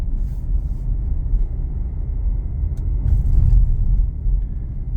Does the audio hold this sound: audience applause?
no